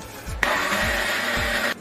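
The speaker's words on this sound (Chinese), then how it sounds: "剁碎的大蒜、姜粒、葱粒，搞到搅拌机里面" A blender whirs briefly, blending chopped garlic, ginger and scallion with water into garlic juice; a steady close motor drone starts abruptly and cuts off after about a second.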